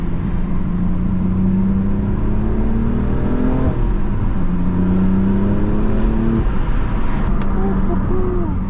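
Stock manual BMW M4 Competition F82 accelerating hard, engine note climbing steadily through the gears with a shift dip midway, loud and continuous over road and wind noise.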